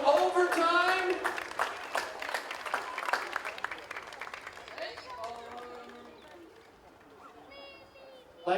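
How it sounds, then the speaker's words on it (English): An audience claps for both polo teams after an overtime match at an outdoor polo club, a lively burst of applause at first that thins into scattered claps as people talk nearby. "Let's give both these teams a round of applause."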